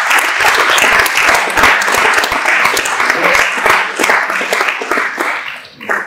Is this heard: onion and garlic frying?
no